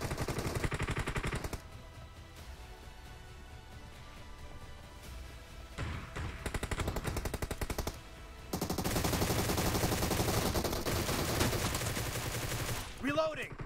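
Rapid automatic M10 gunfire in a multiplayer shooter game, dense bursts of shots near and loud, pausing and resuming, with voices over it.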